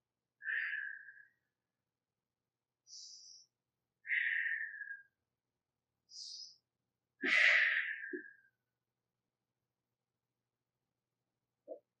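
Breathing during a pre-habilitation exercise: a series of separate breathy inhales and exhales, some with a hissing, whistle-like edge, spaced a second or two apart, close to the microphone in an otherwise silent room.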